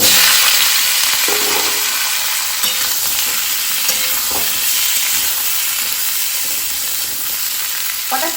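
Lightly fried cauliflower stir-fried in a pan with other ingredients, a steady loud sizzle with scraping stirs throughout, no voices.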